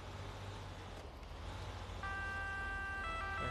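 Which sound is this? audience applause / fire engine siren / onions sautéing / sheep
fire engine siren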